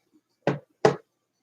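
Two distinct knocks, close and sharp, sound about a third of a second apart in an otherwise quiet room during a ghost-hunting session.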